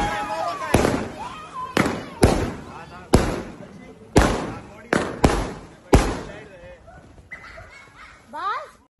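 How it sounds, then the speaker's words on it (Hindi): Fireworks set off at home to celebrate a baby's birth, heard as a string of sharp, loud bangs at irregular intervals, about seven or eight blasts, with voices chattering in the background between the pops. "शाहिद अफरीदी खुशियां मनाते हुए जश्न की तरह आतिशबाजी घर में करते हुए नजर आए"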